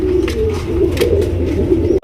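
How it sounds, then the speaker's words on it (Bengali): Pigeons in a breeding loft coo close by in a continuous throaty, warbling murmur, low rolling calls overlapping without a break. "দর্শক এখানে দেখতে পাচ্ছেন বেশ কিছু কবুতর আছে এখানে"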